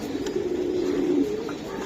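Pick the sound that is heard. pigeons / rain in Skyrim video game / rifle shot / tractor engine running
pigeons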